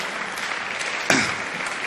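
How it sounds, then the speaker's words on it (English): Applause from an audience at a business event, a brief, steady wash of clapping from many hands heard throughout, with one sharper, louder accent about midway. "let's give it a warm round of applause for that."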